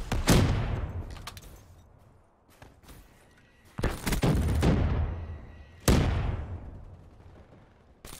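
Hellstorm missile strikes in the video game Black Ops 3 land as a series of heavy booming explosions, each with a long rumbling decay, mixed with bursts of gunfire, loud and close.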